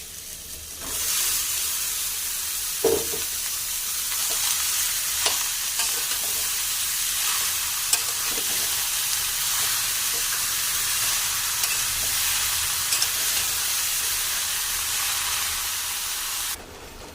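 Bottle gourd sautéing in a spice masala for a chickpea and potato curry, producing a constant loud sizzle with a few light clicks of a spoon stirring through the pan.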